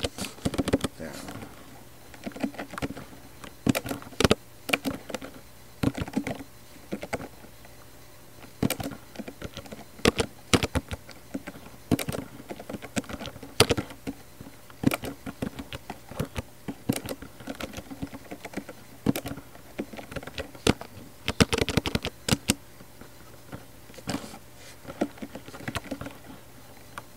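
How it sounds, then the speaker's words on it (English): Keys on a computer keyboard are typed in uneven bursts of sharp clicks and pattering taps, close and steady over nearly half a minute, with a faint hum beneath. "I'm going to type these single word keywords"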